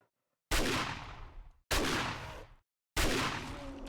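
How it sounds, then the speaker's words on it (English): In the video game 7 Days To Die, 9mm and shotgun fire aimed at a bear comes as three loud, abrupt blasts with decaying tails, separated by brief silences. "just a couple of 9mm into him, and get him to come over to the shotgun"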